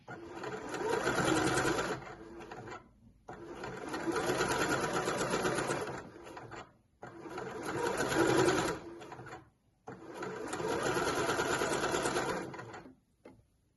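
A sewing machine stitches a curved seam on an indigo dress in four steady whirring bursts of about two to three seconds each, separated by short pauses, close and clear.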